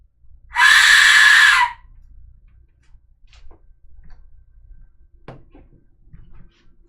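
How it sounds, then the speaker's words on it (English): An Aztec death whistle is blown once: a loud, piercing, scream-like blast lasting about a second, followed by quiet room sounds and faint clicks. "I'm gonna be over here with my death whistle."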